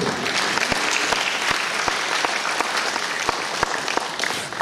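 A church congregation claps in praise during a family day service, a thick wash of many hands with a few sharp, distinct claps standing out, steady and fairly loud throughout.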